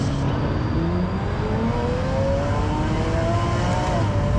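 McLaren F1 GTR with a mid-mounted engine and box transmission in a racing simulator game, engine droning steadily and climbing in pitch through revs, moderately loud with faint road whir.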